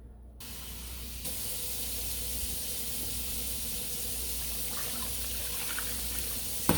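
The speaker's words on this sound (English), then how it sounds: "But I'm going to add some hot water." Hot water runs steadily from a tap or spray into a container for snow dyeing fiber, a continuous hissing splash that starts abruptly, stays loud and even, and ends with a small clunk.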